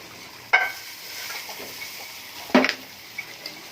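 Oil mixed with ghee crackling in a cooking pan while a tamarind dish cooks, with two sharp pops a couple of seconds apart over a soft, steady sizzle.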